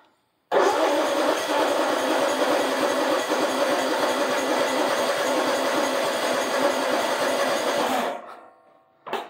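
A zero-turn mower engine is cranked over by its starter, a loud, rapid rhythmic churning that starts abruptly and grinds on steadily for several seconds before dying away, followed by a brief faint rattle.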